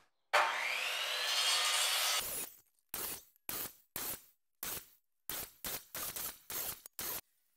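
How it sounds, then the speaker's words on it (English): A miter saw cuts grooves into a wooden post for a half lap joint. One long continuous cut is followed by a rapid series of short, loud bursts with silent gaps between them. "using the miter saw, we've cut grooves into the part where we're going to cut out the half lap"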